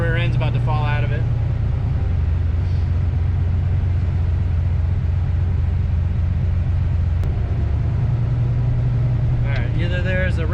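A turbocharged Foxbody Mustang engine, run on a Megasquirt tune, drones loud and steady with a low rumble, then briefly drops out as if hitting a rev limiter or losing its crank signal, while a voice talks over the noise at both ends.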